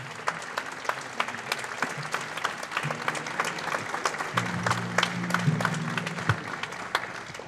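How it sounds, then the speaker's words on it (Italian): Concert audience applauding saxophonist Riccardo Brandi after his alto sax concertino at a wind band concert at Castello della Rancia; sustained, dense clapping fills the clip with a low sustained tone beneath it. "Applauso senza dubbio meritatissimo per Riccardo Brandi che ci ha dato prova della sua bravura"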